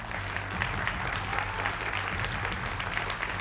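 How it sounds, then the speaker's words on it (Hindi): A studio audience on a Hindi political debate show claps to welcome panel guests, steady and fairly soft applause throughout with a faint voice underneath. "तालियां तो बजा दीजिए आप लोग"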